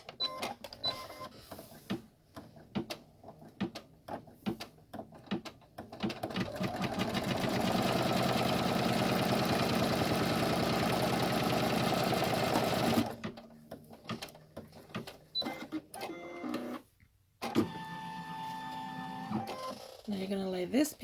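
A sewing machine stitches a double-zip splash bag in one long steady run of about six seconds, with someone talking before and after and brief shorter bursts of stitching near the end.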